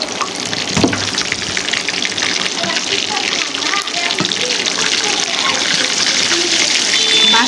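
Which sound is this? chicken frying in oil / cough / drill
chicken frying in oil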